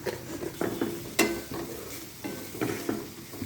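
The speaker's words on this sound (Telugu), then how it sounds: "ఉల్లిపాయలు బాగా ఫ్రై అయిన తర్వాత వెల్లిపాయలు ఫ్రై చేయాలండి" Onions fry in a pan while a spoon stirs them, making repeated scraping strokes and clinks over a soft, even sizzle, close and moderately quiet.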